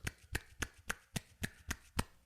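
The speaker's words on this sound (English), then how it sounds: "That's me clapping my fingers onto my hand, one hand clapping" Fingers slap against the palm of one hand in eight sharp, evenly spaced claps, close and fairly soft with no talking.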